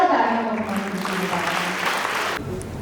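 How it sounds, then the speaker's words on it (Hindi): Applause from a seminar audience in Mohali on Bhagat Kabir Ji, loud broadband clapping under a speaking voice at the start that builds and then cuts off abruptly near the end. "एक बार जोरदार तालियां"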